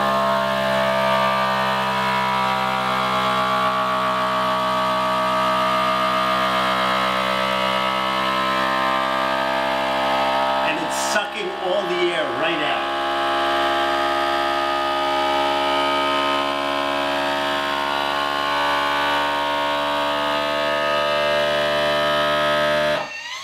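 A vacuum sealer in accessory mode pumps air out of a food storage container through a small hole in the lid. It makes a loud, steady, droning motor whine for the whole time, with a brief wavering in the middle before it cuts off at the end.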